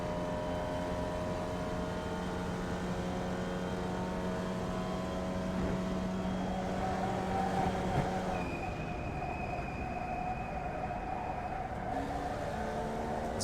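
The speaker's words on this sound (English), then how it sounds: "I'll turn up the wheel noise." A Formula Vee racing car in iRacing laps Motorsport Arena Oschersleben, its engine a steady, close drone with a pitch change about two-thirds through. No one speaks.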